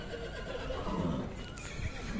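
A horse penned at a livestock market in Bishkek gives a loud, close neigh that rises and trails off against low background bustle.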